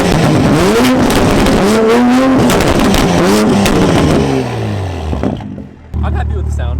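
A 2020 Toyota Supra engine with an aftermarket exhaust revs loud and close in several rising and falling pulls, then drops to a lower rumble with a brief gap before idling on.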